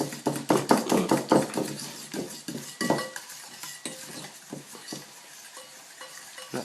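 A spoon scrapes and knocks against a bowl while a cinnamon biscuit mixture is worked, making close, rhythmic strokes that start brisk and loud and then slow and soften.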